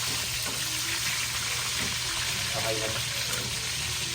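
Chicken and mushrooms frying in a pan, a faint steady sizzle and hiss running under brief talking.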